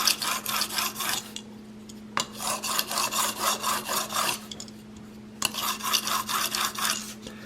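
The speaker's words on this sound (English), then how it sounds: "I'm going to break that 400 grit burr off" Repeated back-and-forth strokes of a Swacker 252 broadhead rubbed across a 400 grit abrasive to break off the burr, in two bursts of rhythmic rasping with a short pause between, close and fairly quiet.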